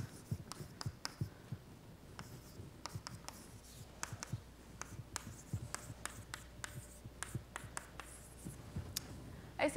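Chalk or a marker writes on a board during a mathematics lecture, giving quick irregular taps and scratchy strokes over a faint room hum. The strokes are moderately close and no one speaks.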